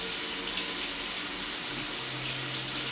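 Cold water runs steadily from a sink tap onto a freshly formed custom sports mouthguard on its cast, a continuous close splashing hiss with no voices.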